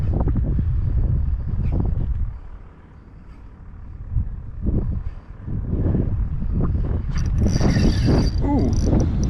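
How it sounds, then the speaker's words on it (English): Strong wind buffets a microphone out on the water during inshore kayak fishing in spring, a loud, continuous low rumble that briefly eases midway, with faint higher rustling toward the end. "this wind is getting tough to deal with"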